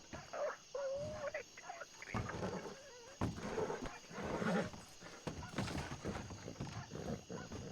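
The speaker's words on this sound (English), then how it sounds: "That is a very, very angry caballo." An angry horse in the Red Dead WildRP video game gives agitated whinnies and snorts, with shuffling hoof sounds, faint and intermittent against a quiet background.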